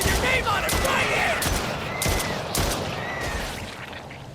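Bursts of gunfire from the video game Stray Souls ring out repeatedly in quick volleys, loud and continuous over a few seconds, with some talk mixed in.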